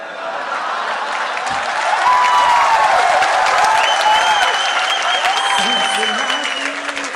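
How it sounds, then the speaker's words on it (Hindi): An audience at a comedy show at IIT Delhi breaks into loud, sustained applause, dense clapping that swells and holds for several seconds with faint tones and crowd noise underneath. "सुन लीजिए फिर तालियां बजा दीजिए।"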